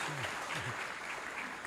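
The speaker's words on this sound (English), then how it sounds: "let's give him a round of applause to welcome him" Audience applause welcoming a speaker on the last night of a Kartik festival gathering, a steady wash of clapping from a crowd that fills the whole moment, with a voice briefly audible underneath.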